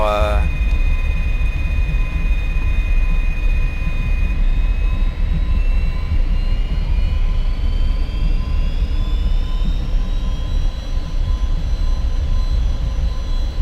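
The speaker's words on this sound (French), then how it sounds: "il semble qu'il y a des avions par là-bas." A jet aircraft, apparently an F-86F Sabre, roars loud and steady nearby, a continuous turbine whine slowly rising in pitch over a deep rumble for the whole stretch.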